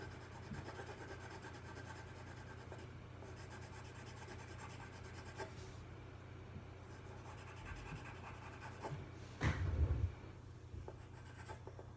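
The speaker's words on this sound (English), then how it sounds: "you'll be able to make those adjustments with the pencil." A pencil scratches across paper while drawing the fur of a dachshund-terrier mix dog, with soft, continuous short strokes, close and quiet, ending in a brief burst of heavier rubbing.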